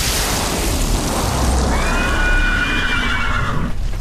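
A spooked horse neighs amid roaring flames, a long rising and falling whinny cutting through a dense, loud crackling fire and rumble that fills the whole scene.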